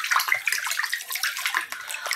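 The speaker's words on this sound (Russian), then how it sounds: "Растворила марганцовку и тихонько опускаю ее к общей воде." Potassium permanganate solution being poured gently into a larger body of water: a continuous close splashing, trickling pour with bright watery spatter, steady throughout with no talking.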